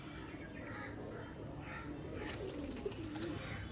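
Pigeons cooing at a pigeon seller's collection, soft and somewhat distant. Low repeated coos sound over a faint ambient background, with a few light chirps.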